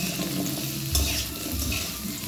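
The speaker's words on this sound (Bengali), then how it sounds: "ভেজে নিতে হবে লাউগুলো" Bottle gourd pieces fry in a pan with oil for a sour fish-roe dish, giving a steady close sizzle with light stirring scrapes and a brief louder clatter midway.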